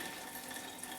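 Tap water runs steadily through a PUR filter setup, a soft continuous rushing splash heard up close and alone for a brief moment.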